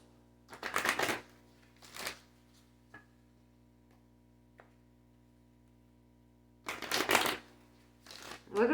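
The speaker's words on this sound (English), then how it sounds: "Now let's pull some oracle cards." Oracle cards are shuffled in several quick riffling bursts separated by quiet pauses, with a few soft taps between them, close and crisp with no talking.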